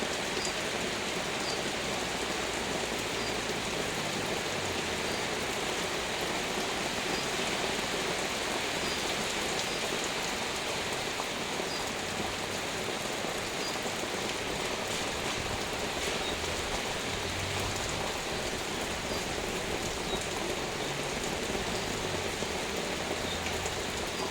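Heavy rainstorm pours down steadily and loudly, a dense unbroken hiss of rain on surfaces lasting throughout with no voices.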